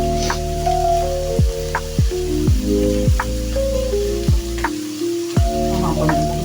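Onion frying in a pan for gazpacho manchego, a close, steady sizzle with crackles and the repeated scrape of stirring.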